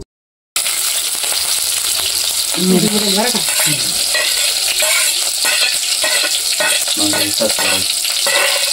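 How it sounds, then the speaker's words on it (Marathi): Green chillies frying in oil, with a loud continuous sizzle throughout and scraping stirring strokes and spatula clinks mixed in, following a moment of silence at the start. "मिरची टाकून घेतली. सगळ्यात अगोदर आपण तेलात मस्तपैकी तळून घ्यायची."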